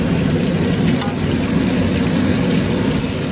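Chicken legs fry in sesame oil in a pan, giving a steady, dense, close sizzle that runs unbroken with no talking.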